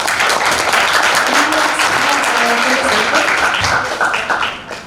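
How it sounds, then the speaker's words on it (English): Audience applause at a youth festival business idea competition, a steady wash of many hands clapping for a presenting group, loud and sustained throughout before tapering off at the very end. "everyone, please give warm applause to Group 9"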